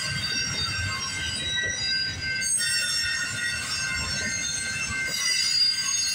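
A CPKC freight train, designated 231 and carrying a BNSF locomotive, rolls past the Guelph Line crossing in Campbellville with a steady rumble and high wheel squeal throughout, loud and continuous.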